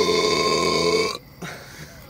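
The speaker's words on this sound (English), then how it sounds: "You're gonna wake all your neighbors up with them fucking burps." A long, loud, drawn-out burp after drinking banana and Sprite, with a resonant croaking tone that cuts off sharply, followed by a brief quieter burp.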